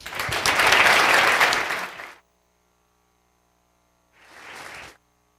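Audience applause at a startup demo day pitch for a game-night company: a dense burst of clapping for about two seconds, then silence, then a shorter, quieter second round of applause.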